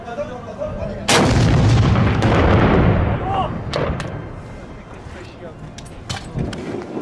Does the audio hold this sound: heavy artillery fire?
yes